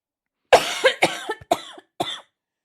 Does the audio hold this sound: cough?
yes